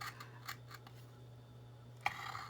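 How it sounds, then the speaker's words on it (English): Scissors snip through paper while a small mini box is being made, a few soft, close cuts spaced irregularly, with one sharper snip near the end over a faint background hum. "I cut the window out and then cut the paper"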